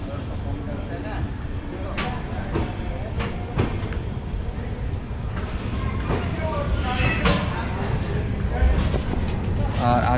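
A passenger train running at night just after leaving Ajmer Junction, with a steady rumbling rolling noise and occasional clanks throughout, heard from inside the carriage while a person talks over it.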